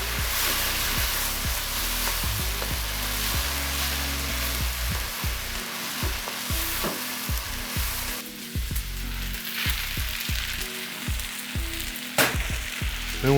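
Special fried rice with a soy sauce mixture sizzles and crackles steadily in a hot pan, with repeated scraping stirs knocking through the continuous frying noise; close and fairly loud, with no talking.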